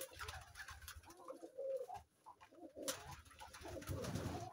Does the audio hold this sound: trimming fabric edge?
no